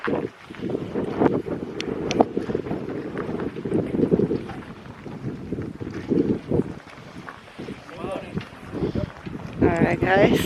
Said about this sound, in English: It's quite a windy night.